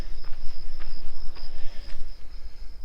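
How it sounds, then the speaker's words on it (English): Crickets chirp in a steady high-pitched trill on a quiet hiking trail in Wildwood Park, Thousand Oaks, California, with faint footstep-like crunches and a low background rumble. "You can hear the crickets going"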